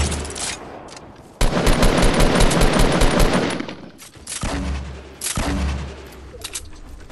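Rapid automatic gunfire in Fortnite Battle Royale, long loud bursts of shots with brief gaps between them, close and dominant with no talk over it.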